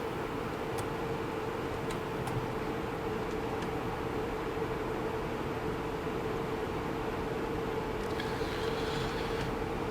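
A train moves off after its brakes release on a German/Austrian cross-border line near Salzburg, giving a steady low rumble and hiss from inside the cab with faint clicks throughout.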